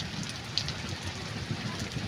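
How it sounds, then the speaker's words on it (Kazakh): Rain falls at home during a storm, with a soft continuous patter and occasional faint low rumbles and a few louder drops, no speech. "жаман жаңбыр жауып, найзағай ұрып жатыр"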